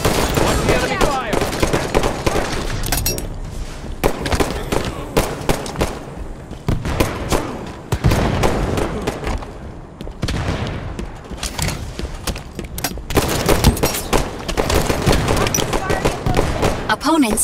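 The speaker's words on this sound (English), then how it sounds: "They're targeting me. Watch the enemy fire." Rapid bursts of enemy gunfire fill a Halo 5 Arena Oddball match on the Echelon map, with dense overlapping shots and booms going on throughout at close range.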